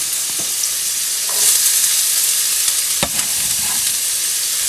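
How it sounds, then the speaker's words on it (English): Onion and garlic sizzling loudly in hot oil, a constant bright hiss with a few clinks of a utensil stirring the pan. "You know I love my sizzle."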